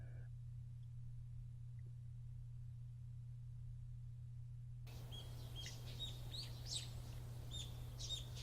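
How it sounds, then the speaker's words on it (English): Birds chirping and tweeting in the Higurashi visual novel game, with a scattered series of calls that start suddenly partway through over a steady low hum. "The chirping of birds served as my alarm clock."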